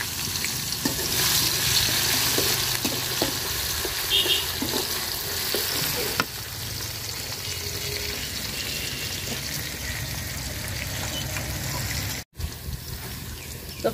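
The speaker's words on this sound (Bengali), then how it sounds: "পেঁয়াজটা রসুনটা আমি লাল লাল করে ভাজা নিচ্ছি" Grated ginger, garlic and onion fry in hot oil in a heated pot, a steady close sizzle running throughout with occasional stirring clinks, easing slightly after the first few seconds.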